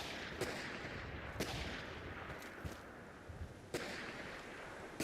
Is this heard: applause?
no